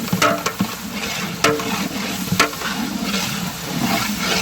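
Niaz meat being stir-fried with curdled yogurt in a large cooking pot, a wet bubbling sizzle broken by a few sharp scrapes and knocks of a ladle against the pot.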